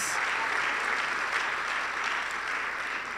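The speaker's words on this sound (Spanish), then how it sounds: "denle una ofrenda de palmas al Señor" A church congregation claps together in a sustained round of applause, a dense, steady patter of many hands filling the space, with no speech over it.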